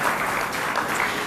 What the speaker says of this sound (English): They deserve an applause for that